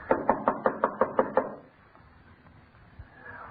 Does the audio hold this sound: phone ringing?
no